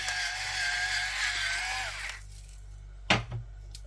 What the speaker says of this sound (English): I've got my nice handy automatic grinders now.